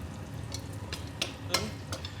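Venison fat sizzling steadily in a hot pan as it renders out, with a few soft scraping stirs, close by and without speech.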